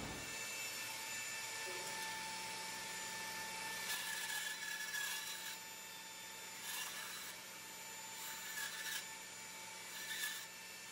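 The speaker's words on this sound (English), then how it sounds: "then go to the sander and sand it off" Power sander grinding steadily against a pallet wood Christmas ornament, a continuous close whir with brief rougher surges as the piece is pressed and shifted against it.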